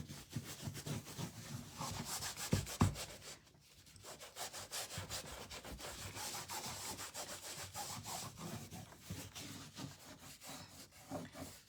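A cloth or brush works wax into the crimson surface of an old suitcase, producing steady close rubbing strokes in a repeated scraping rhythm with a brief pause partway through.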